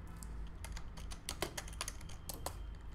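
Keys on a computer keyboard are tapped in a quick, irregular run of crisp clicks, close and fairly quiet over a faint steady hum.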